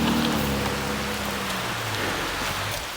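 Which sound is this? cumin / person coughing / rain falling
rain falling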